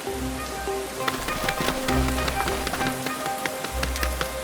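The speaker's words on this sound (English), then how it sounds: "Rain starts falling. First a few drops, then heavy rain." Heavy rain pours down in a dense, unbroken patter, with sharp individual drop splashes scattered across it and low rumbling underneath, sustained for several seconds with no voices.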